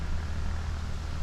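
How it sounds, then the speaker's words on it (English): A faint, steady low drone of an ATV engine carries up from somewhere below a hiking trail on a hot June day in New York, distant and continuous with no voices. "like ATV noise or something"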